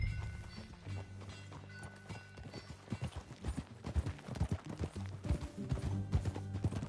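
A horse's hooves clip-clop in Red Dead Redemption 2, irregular and close, quickening into a fuller trot under a low droning bed, no speech.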